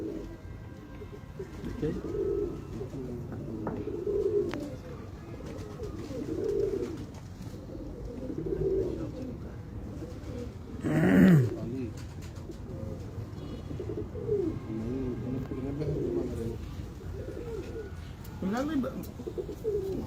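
A pigeon coos over and over in low, soft, throaty phrases about every two seconds, with brief fluttering noise midway.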